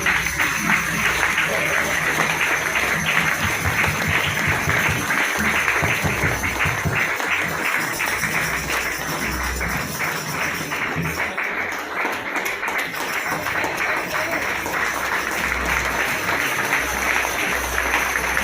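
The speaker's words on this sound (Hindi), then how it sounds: "जोरदार ताली बजावा" Loud, continuous applause fills a church Christmas carol gathering, with dense clapping from a crowd sustained for many seconds and some talk mixed in beneath it.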